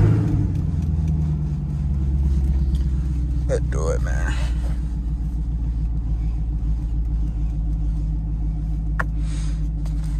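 Chevrolet Camaro SS V8 engine rumbling steadily while driving in daylight, a continuous low drone throughout with someone talking over it.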